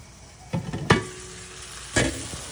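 Tuna sautés in a pan with a light, steady sizzle, punctuated by a few distinct utensil knocks and scrapes as it is stirred.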